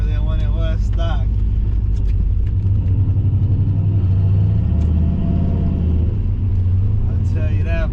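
A turbocharged Chevrolet Silverado with a new muffler accelerates, a deep, loud rumbling exhaust drone that swells and rises in pitch from inside the cab, with people talking over it at the start and end.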